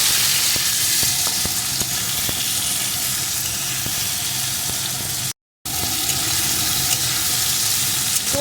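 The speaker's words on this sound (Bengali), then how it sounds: "এখন বেশ কিছুক্ষণ আমি এটাকে ভেজে নেব" Potatoes fry for a plain white potato curry in a pan, a loud continuous close sizzle with scattered crackles and light stirring clicks, broken once by a brief cut to silence.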